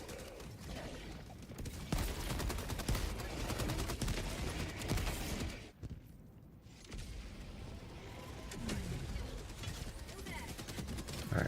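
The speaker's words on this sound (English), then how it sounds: "the rockets and the mortars" Turret gunfire, rockets and mortar blasts in the Helldivers 2 video game, rapid chattering bursts and heavy impacts piling up loudly, with a brief lull midway before the shooting resumes, and a player talking over it.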